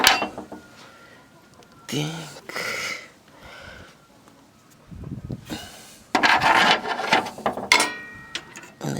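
A fuel tap on a walk-behind tractor is unscrewed by hand, giving intermittent close rubbing and scraping metal-on-metal bursts separated by quiet gaps.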